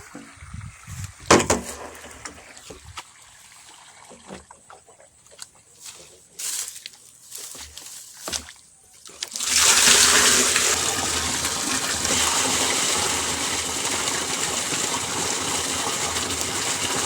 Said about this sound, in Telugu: వాటర్ వచ్చేసి మన బోర్ వాటరే పడుతున్నాం.